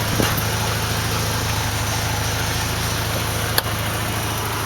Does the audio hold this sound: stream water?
no